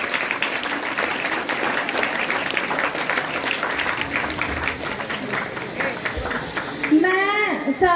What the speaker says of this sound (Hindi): तालियां होती रहनी चाहिए।